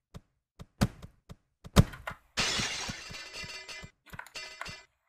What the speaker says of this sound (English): I'm gonna smash every single window in this building.